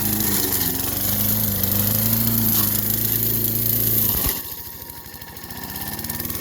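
A running lawn mower engine drones steadily, then a sudden jolt cuts in as the blade strikes a tree stump, and the motor falls into a rough, choppy labouring rhythm before picking back up.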